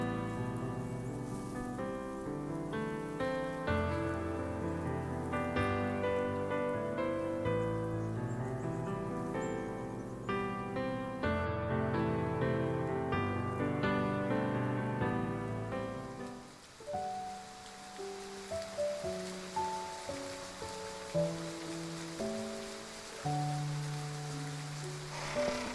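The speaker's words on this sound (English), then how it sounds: "It's letting in a little bit of water, but it's better than standing in the rain." Rain falls as a soft, steady hiss. It sits under prominent melodic music at first, then comes through more openly with sparse notes over it.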